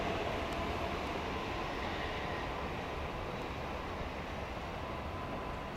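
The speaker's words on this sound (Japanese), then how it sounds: "児玉号東京行きの到着です。" A Tokaido Shinkansen N700A Kodama train rumbles steadily through the whole stretch as it pulls into Shizuoka Station, a continuous low roar with no pauses, loud and close.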